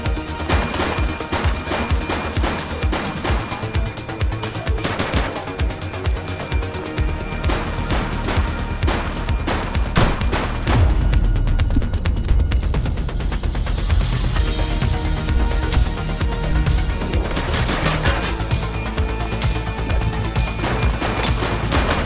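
Gunfire in The Precinct police game, dense rapid bursts of automatic shots and crashes hammering almost without pause, loud and close.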